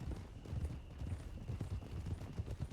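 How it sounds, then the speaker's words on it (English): Horse hooves clopping steadily in a western roleplay video game, a continuous rhythmic patter of many hoofbeats at close range, fairly loud and with no talk over it. "I don't see any movement up there either, to the sound of our hooves."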